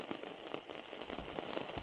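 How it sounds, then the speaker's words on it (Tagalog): Rain and wind at a summer campsite beyond Baguio, a faint scattered patter of drops with soft crackles over a low windy rumble, quiet and without voices. "Meron ulan tapos meron pang hangin."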